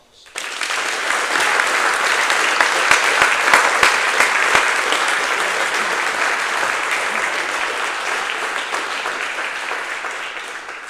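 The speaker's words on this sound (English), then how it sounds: "Please join me in giving our coaches a round of applause." Sustained audience applause at a high school music concert and fine arts awards night, a dense wash of many hands clapping steadily for the coaches at close-to-moderate distance, holding strong for nearly eleven seconds before easing slightly.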